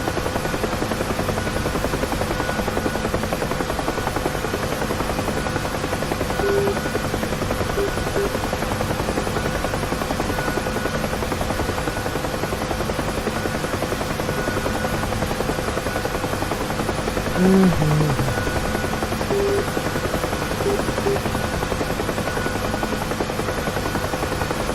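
A UH-1 helicopter in the DCS flight simulator game drones continuously and evenly, its steady rotor and engine hum filling the whole stretch with no voices.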